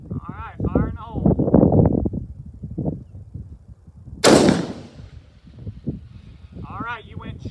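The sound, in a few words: Bergara B14 Wilderness Terrain 6.5 CM rifle shot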